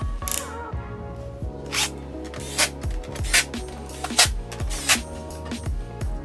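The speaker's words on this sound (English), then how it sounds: "Just going to put my Bosch on a real low setting here. Tighten them down." A Bosch drill driver on a low setting tightens four screws with washers into a TV wall mount bracket, giving repeated short whirring and ratcheting bursts in an even rhythm, close and moderately loud.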